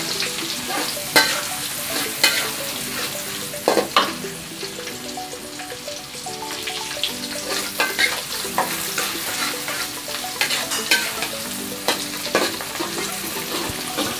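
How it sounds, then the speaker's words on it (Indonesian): Shallots, garlic and onion fry in oil in a pan, a loud continuous sizzle with frequent sharp crackles and pops and the scrape of stirring, close up and steady throughout. "ini kita goreng per bawangan, mulai dari bawang merah, bawang putih, lanjut bawang bombay"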